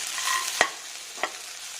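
Fried cashews and peanuts are stirred into frying okra, with a soft sizzle underneath and two distinct spoon clinks against the pan.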